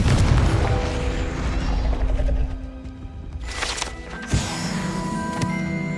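A Confringo blasting spell goes off in Hogwarts Legacy: a loud, dense rumbling burst with mechanical rattling fades over a few seconds, then a sharp crack and ringing tones follow, with no talking.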